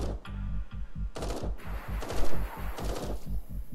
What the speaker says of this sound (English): More missiles. Shoot more missiles. All the missiles.